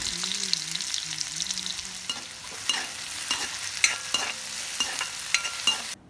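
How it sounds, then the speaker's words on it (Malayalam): Sliced onions and curry leaves fry in hot coconut oil in a Kerala kitchen, a dense steady sizzle with repeated stirring scrapes and clinks from a spoon against the pan, close and continuous. "എണ്ണ അങ്ങോട്ട് ചൂടായതിന് ശേഷം അതിലേക്ക് കുറച്ച് സവാളയും കുറച്ച് വേപ്പില അങ്ങോട്ട് ഇട്ട്"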